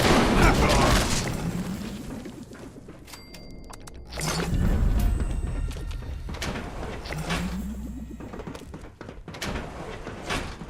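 A nuka grenade detonates in Fallout, with two or three loud booming blasts spaced a few seconds apart, each trailing into rumbling debris and clatter, set against game background sounds.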